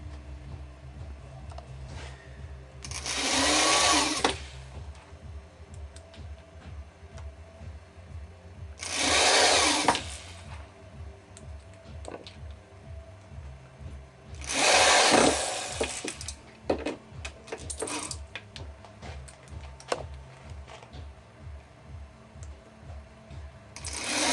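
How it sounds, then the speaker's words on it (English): Screws driven into a wooden DDR dance pad board with a power driver: three loud whirring bursts of several seconds each, spaced apart, and quieter clicks and handling noises between them. "what I have here are all 16 holes drilled and 16 screws. So we're just going to put these in and leave about 1/4 of an inch up."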